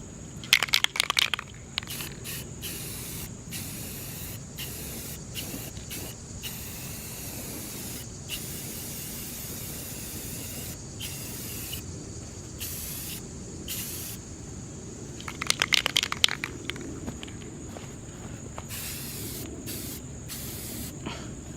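Spray paint hisses onto trailer tires in short bursts and longer passes, close and fairly loud, with pauses between and a sharp rattle of the can being shaken near the start and again midway.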